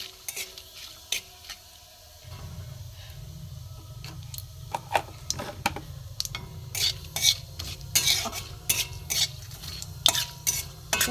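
Whole cumin seeds and a torn bay leaf fry in mustard oil in a pan, with a soft steady sizzle beneath intermittent scraping and clinks of a stirring spoon against the metal, close and fairly quiet.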